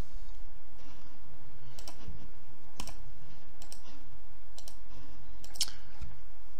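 Irregular clicks and taps of typing on a computer keyboard, sparse and fairly close, with short pauses between bursts of keystrokes.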